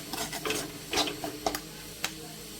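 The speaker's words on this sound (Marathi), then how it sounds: "आता हे थोडं रवा भाजून, रवा भाजायचा चांगला." Semolina roasting in a pan is stirred with a utensil, giving short scraping strokes and soft clinks over a faint sizzle, quiet and close.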